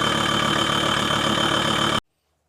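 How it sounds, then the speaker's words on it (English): A car engine idles steadily and evenly close by after an oil change, a dense continuous rumble that stops abruptly into silence. "now we've run the engine for a few minutes"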